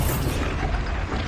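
A Bombarda spell explosion in Hogwarts Legacy bursts with a loud, dense boom that fills the whole moment and rumbles on briefly, with no voices over it.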